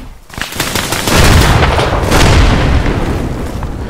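A frag grenade blast in a 1972-era military sim game: a loud, booming burst of explosion and sustained gunfire rumbling for several seconds, dense and close, with no talk.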